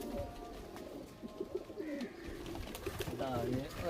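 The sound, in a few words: pigeons cooing in a loft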